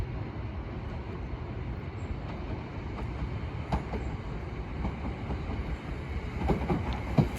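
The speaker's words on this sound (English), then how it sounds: "here we have a Greater Anglia Class 379 from Cambridge North to London Liverpool Street" A Greater Anglia Class 379 electric train, likely a pair, rolls past at Bethnal Green on the line from Cambridge North to London Liverpool Street, a steady low rumble with faint clicks and rattles, fairly near.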